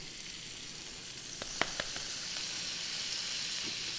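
Onions and yellow peppers fry in butter and oil in a hot pan, a steady fine sizzle with a few sharp crackles and spatula taps near the middle, close by and fairly quiet.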